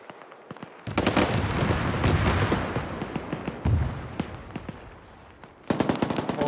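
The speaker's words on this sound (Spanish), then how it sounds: "Le están disparando." Gunfire in the military video game ArmA 3: long bursts of rapid machine-gun fire with sharp individual cracks, loud and close, pausing briefly before another fast burst starts at the end.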